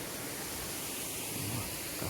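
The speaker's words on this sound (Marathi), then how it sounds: "हिडन वॉटरफॉल, त्याचं नाव आहे घुबडी धबधबा" Ghubadi waterfall, a hidden waterfall near Jawhar, pours water over rocks in a steady, dense roar that holds at an even level throughout, with no voices.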